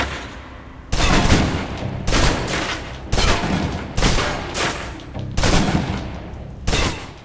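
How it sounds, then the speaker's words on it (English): Submachine gun in the video game Alpha Protocol emptying its magazine, loud sustained bursts of rapid gunfire broken by brief gaps, about six automatic volleys in a row with no talking. "Now, let's move on to the submachine gun. Now let's empty the clip."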